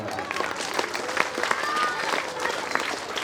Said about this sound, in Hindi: एक्सो की टीम के लिए एक बार जोरदार तालियां बजाएं